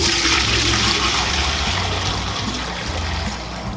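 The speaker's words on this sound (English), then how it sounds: "I'm going to strain the liquid" Chicken broth is poured through a strainer, a loud steady rush and trickle of liquid heard close up, easing slightly toward the end, with no talking.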